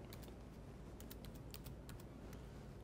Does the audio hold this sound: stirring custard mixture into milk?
no